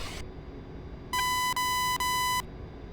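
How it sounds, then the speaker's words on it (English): Loud electronic warning tone in a DCS World A-10C cockpit, a steady high beep sounding as one sustained burst broken by two brief gaps, over low background rumble. "Ooh, I got the beeps."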